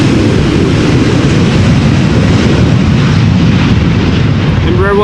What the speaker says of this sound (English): Embraer 190, KLM flight 949. On its way to Belfast.